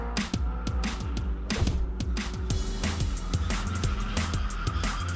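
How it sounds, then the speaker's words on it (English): A car drifts in the Need for Speed ProStreet racing game, its engine roaring loudly and continuously while tires squeal and skid in repeated bursts with no talking. "To stitch together a run of multiple drifts, release the throttle to throw your car in the opposite direction."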